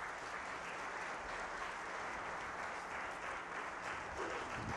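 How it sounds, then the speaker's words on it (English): Audience applause from a church gathering, a dense, even roar of clapping hands sustained throughout at a steady, fairly distant level without speech. "Give yourself a round of applause."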